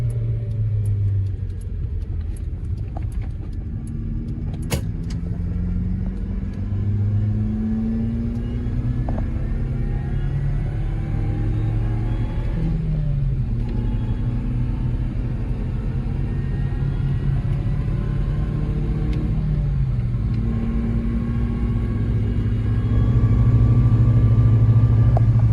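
A supercharged car rumbles deeply from inside the cabin while a thin whine climbs and falls with each rev, steady and close throughout.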